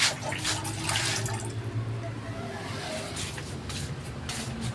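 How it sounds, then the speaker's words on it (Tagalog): Hands being washed under a running kitchen tap, a steady, fairly quiet water hiss and splash with small shifts as the hands move through the stream. "Hugas muna ako ng kamay."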